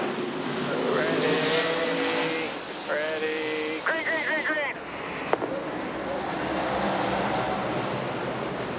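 NASCAR stock cars race at Texas Motor Speedway, engines roaring steadily with a loud nearby pass and rising and falling pitch, under commentators talking over a radio.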